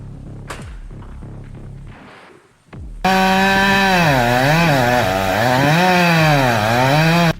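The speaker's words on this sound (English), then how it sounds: "With just a handheld chainsaw," A handheld chainsaw with a powerful engine cuts into a massive tree, first a few knocks and a brief rev, then a loud, close, sustained buzzing whine that rises and falls as the chain bites the wood.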